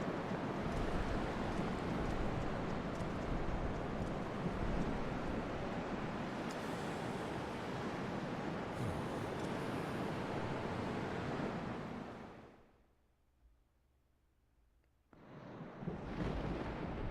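Dark, windy ambience from Zelda: Twilight Princess HD during a final battle stand, a steady loud broadband roar like gusting wind that drops away near the end before surging back.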